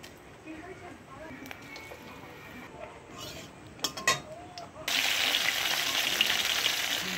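Hilsa fish heads with dried chilli, bay leaf and ginger-cumin paste go into a hot wok, and a loud sizzle bursts out suddenly after some clinks of a utensil. A voice talks over the cooking.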